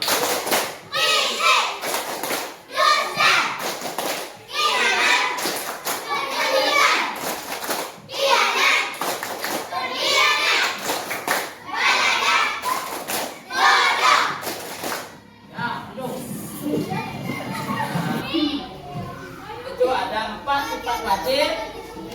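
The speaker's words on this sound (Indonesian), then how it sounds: "Tepuk sifat mustahil bagi rasul." Schoolchildren chant and clap in unison about the prophet's impossible attributes, with sharp rhythmic claps punctuating their voices for about fifteen seconds, followed by looser chatter and talking from the class.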